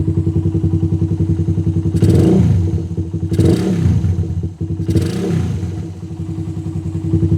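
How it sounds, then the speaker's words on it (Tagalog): A Raider 150 motorcycle with a 26mm stock carburetor, 125 jets and a racing CDI idles steadily with a loud, close pulse, then revs hard three times in quick, sharp throttle blips before settling back to idle. "Kita mo, napaka-aggressive par. Aggressive ng throttle response niya."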